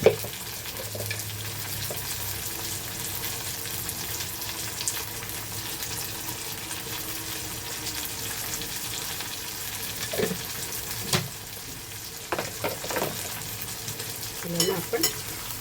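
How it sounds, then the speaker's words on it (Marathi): Prawns sizzle in a pan with softened cooked onions for a spicy seafood dish, a steady low frying hiss broken by scraping and stirring clatter, with a little running water nearby. "आपला कांदा शिजले तर ना त्याच्यात आता आपण ह्या कोलंब पहिला टाकूया"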